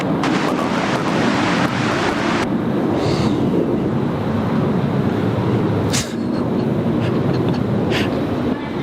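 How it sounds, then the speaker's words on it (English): Strong gusting wind at Brisbane Airport, a loud continuous roar buffeting the microphone throughout, with brief faint higher-pitched bursts of background noise. "the wind's starting to pick up again"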